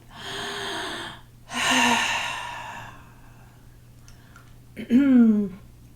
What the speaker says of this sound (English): Let's take a nice breath.